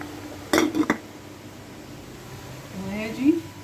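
A lid clinks onto a metal pot of black-eyed peas and rice boiling on the stove, giving a short cluster of sharp metallic clanks and then quieter shuffling. Faint kitchen background follows.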